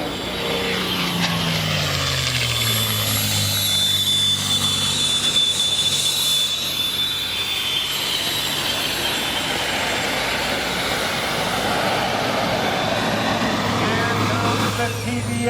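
A warbird powered by a Packard-built Rolls-Royce Merlin V12 of 1,650 cubic inches and 1,500 horsepower roars past at an airshow, a loud sustained engine drone with pitch sweeping downward as it passes. A voice speaks over a loudspeaker.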